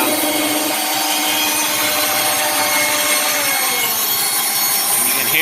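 Hand saw resawing a board of oak, a steady, continuous rasping of the blade through the wood with an even back-and-forth rhythm, close and fairly loud with no talk.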